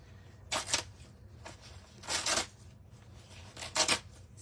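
Embroidery stabilizer backing torn away by hand from stitched stuffies in three quick, rasping rips, each a short papery burst separated by pauses, close and fairly loud.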